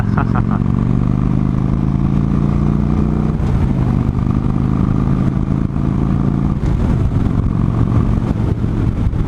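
Exhaust of a 2015 Victory High Ball motorcycle on the move: a loud, steady, throbbing drone with a couple of shifts in pitch along the way, and no talking.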